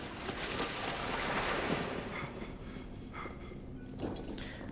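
Loud rushing water in the horror game Amnesia: The Bunker, a dense, steady wash of noise that swells and ebbs slightly, with no talking over it.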